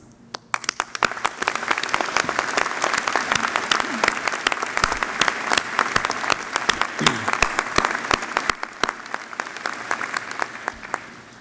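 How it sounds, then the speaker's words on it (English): A convocation audience at a university graduation in June applauds graduates' families, sustained dense clapping filling the hall from start to finish, with some voices mixed in. "They deserve our deepest gratitude and our applause."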